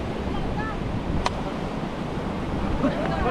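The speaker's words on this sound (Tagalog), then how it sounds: "Ay, may alon eh." Steady roar of large ocean waves and wind washing over the microphone, continuous and fairly loud, with a brief click partway through.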